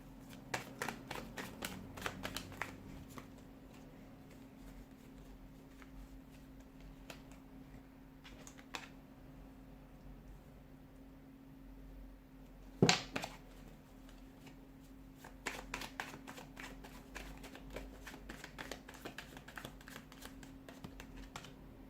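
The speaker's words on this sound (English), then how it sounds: "we'll give the cards a shuffle and let's begin" Tarot cards are shuffled in scattered bursts of soft, quick clicks, with a quieter stretch midway broken by a sharp snap before shuffling resumes.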